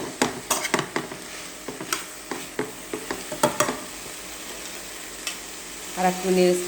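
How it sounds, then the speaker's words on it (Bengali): Mixed vegetables fried in a pan with salt, chilli and cumin powder are stirred, giving irregular scraping clicks and taps over a low sizzle, with a louder burst of frying near the end. "আমি এখন আরেকটু নেড়ে ছেড়ে"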